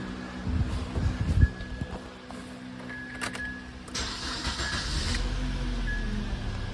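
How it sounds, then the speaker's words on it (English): Car engine cranking and catching, then running steadily at idle, heard close after a battery was reconnected with an Xtool D7 scan tool; brief knocks and clatter come first, then a steady hum with a higher hiss carries to the end. "Now I'm gonna start the car and it's gonna run perfectly."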